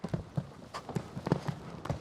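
Hooves of a young horse under a rider thud in a steady clip-clop rhythm, with around eight distinct close footfalls.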